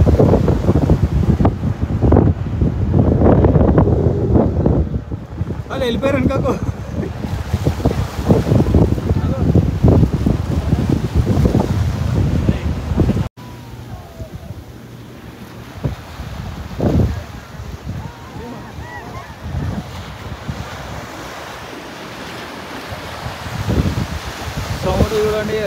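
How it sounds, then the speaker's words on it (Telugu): Strong sea wind buffets the microphone at Rushikonda beach, a loud continuous roar with gusts and surf beneath, easing partway through while someone talks briefly. "ఒక్కసారి సౌండ్ ఏంటంటే గాలి ఎట్లా వస్తుంది"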